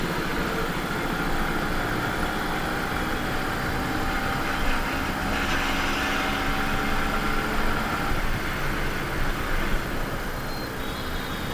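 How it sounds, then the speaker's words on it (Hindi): A two-stroke Yamaha RX motorcycle fitted with an expansion chamber runs steadily, giving a loud, continuous rasping drone that holds even throughout, with no talking. "चेम्बर का साउंड ही मस्त लगता है।"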